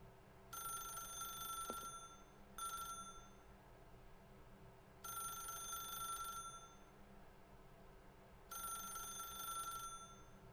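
Telephone bell in the video game The Stanley Parable Ultra Deluxe, ringing in four separate bursts of trilling rings with short silent gaps between them, clear and alone in a quiet room.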